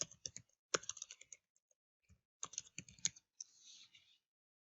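A computer keyboard is typed on in quick clattering bursts of keystrokes, close and crisp, with pauses between short runs of typing and a final softer rustle.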